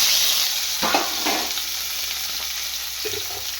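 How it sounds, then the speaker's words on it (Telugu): Green chilli and tomato fry in a spoonful of oil in a kadai pan, giving a steady close sizzle with a few soft scraping stirs. "ఒక స్పూన్ ఆయిల్ వేసేస్తున్నాను ఇక్కడ పచ్చిమిరపకాయ టమాటా అయితే వేసేస్తున్నాను"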